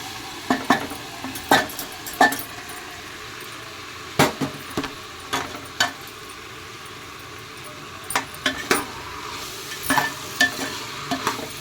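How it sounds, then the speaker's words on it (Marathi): Washed broken wheat dalia with turmeric being sautéed in a pan: a low sizzle beneath repeated sharp scraping knocks of a spoon, coming in irregular bursts over several seconds, with no voices. "त्याला आपण एक दोन मिनटं परतून घेतो"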